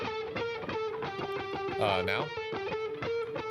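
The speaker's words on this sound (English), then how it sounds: "One with the distortion on it, one with just the lighter overdrive from the amp" Electric guitar ostinato through light amp overdrive with no distortion pedal, a steady repeating riff with a brief swelling flourish midway, steady and up close throughout.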